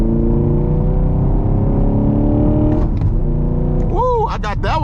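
A Camaro SS 1LE engine drones loudly at steady revs from inside the cabin, then shifts pitch near the end as a downshift rev match blips, with voices talking over it.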